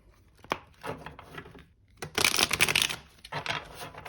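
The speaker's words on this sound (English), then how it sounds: "Okay, we'll do one last shuffle." Tarot cards being shuffled in quick riffling bursts, close up, with a brief tap early on and a dense flurry midway.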